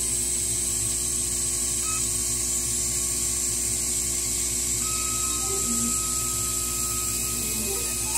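A laser cutter slicing through thick wood gives off a steady mechanical hum with fan and air-assist hiss, plus faint intermittent clicks and tones. It runs continuously at a moderate level, with no talking.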